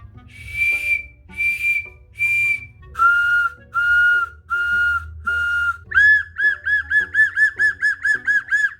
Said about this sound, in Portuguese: cada pito é um sonzinho diferente